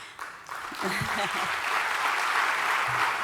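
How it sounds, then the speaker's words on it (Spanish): An audience at a conference breaks into applause, the clapping swelling from a few scattered claps into a steady, sustained wash of sound that fills the room. "ustedes, por supuesto, les pueden brindar el aplauso"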